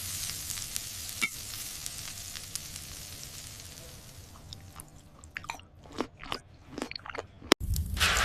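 Iskender kebab sizzles quietly with a soft crackling hiss, then sharper scattered crackles and pops pick up toward the end, close and fairly faint.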